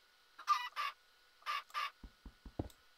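Pet chicken in a video game clucking in short paired bursts, followed by several low thumping hits; the game sounds are clear and close, with nobody talking.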